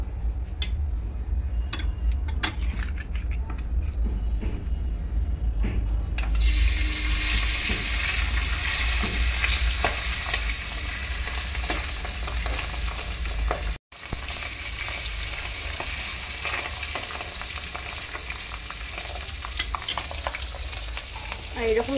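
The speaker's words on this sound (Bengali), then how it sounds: "ঠিক এরকমভাবে আমি মাছটা ভাজি" Pabda fish frying in turmeric-sprinkled oil in a pan gives a loud, steady sizzle that flares sharply after the first few seconds and keeps crackling, with one brief drop near the middle.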